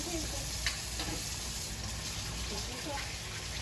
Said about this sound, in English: we're gonna let the ground beef cook for just like a minute